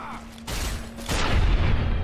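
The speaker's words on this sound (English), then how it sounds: "Who are you shooting at, Edie?" Companion robot ED-E fires in Fallout: New Vegas near Searchlight and Boulder City, a couple of sharp blasts with a tonal hum between them and noisy crackle afterward.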